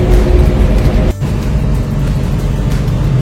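Large double-decker tour bus rumbling past on the road, a loud, close low drone with a short thump partway through, heard without talk.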